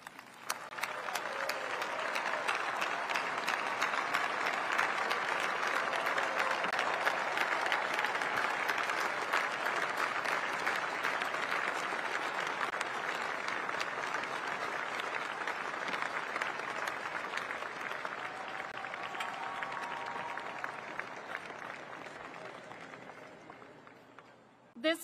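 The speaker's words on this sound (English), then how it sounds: "please stand, turn around, and join me in another round of applause for the outstanding" Sustained audience applause fills the hall at the B-21 Raider stealth bomber unveiling ceremony, a dense, steady clapping from a large standing crowd that holds for about twenty seconds before tapering off.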